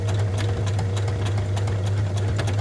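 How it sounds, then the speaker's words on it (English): A sewing machine runs slowly along a fabric edge, producing a steady low motor hum with regular rhythmic needle ticks, close and continuous. "I'm just going to go really slowly. Just to sew that edge in."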